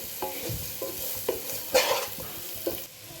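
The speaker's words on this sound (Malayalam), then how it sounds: "അപ്പോൾ നമുക്കിതൊന്ന് ഇളക്കി കൊടുക്കാം" Spoon stirring frying onions and spices in a pan for Kerala-style tomato rice, with repeated scraping strokes over a steady, quiet sizzle.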